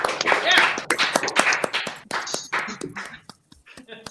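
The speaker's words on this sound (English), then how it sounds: "everyone, let's clap" Comedy show audience clapping in a small room, a close, uneven burst of hand claps with bits of chatter and cheering mixed in, fading out toward the end.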